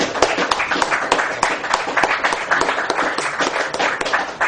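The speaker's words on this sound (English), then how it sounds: "Give yourselves a clap." A crowd claps steadily for several seconds, a dense patter of many hands filling the room.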